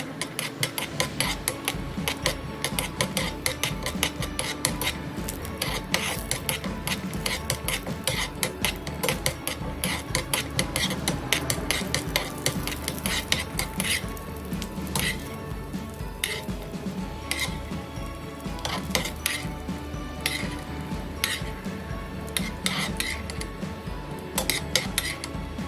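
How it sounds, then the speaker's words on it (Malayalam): Cashew nuts fry in a pan for chicken biryani while a metal spoon stirs nonstop, giving steady close clinking and scraping over a soft sizzle, with no talking. "നമുക്ക് നല്ലോണം ഇങ്ങനെ ഇളക്കി നമുക്ക് നല്ലോണം വറുത്തെടുക്കാം"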